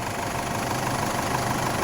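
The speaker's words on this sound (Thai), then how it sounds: "รถสตาร์เครื่องอยู่นะครับ เครื่องเดินนิ่งเดินเรียบเลยนะครับ" A 2007 Isuzu D-Max SLX 3.0 diesel pickup engine idles steadily nearby, a smooth, even low rumble with a faint rhythmic knock.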